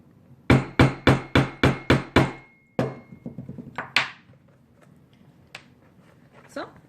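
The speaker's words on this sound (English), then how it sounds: "I'm actually going to use my rivet tool to hold it in place" A rivet tool struck repeatedly to set a grommet in leather for a no-stitch purse: seven sharp, evenly spaced hammer blows, then a few softer taps and a final knock, close and loud with ringing metallic hits.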